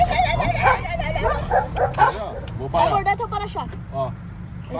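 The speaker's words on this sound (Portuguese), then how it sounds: "Olha os cachorros aí, ó." Dogs barking and yelping at a passing car on a street, several sharp yaps and whimpers close by, mixed with people talking and engine noise.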